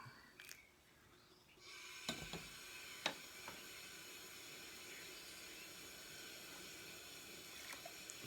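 Hot water pours softly and steadily into a tea bowl during a Japanese tea ceremony, a gentle close trickle with a few light clinks at the start.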